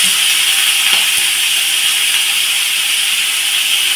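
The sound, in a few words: raw prawns frying in a pan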